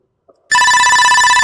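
A phone ringtone starts abruptly after a brief faint sound, then plays as a loud, close, steady electronic tone with a quick pulsing pattern, alone without speech.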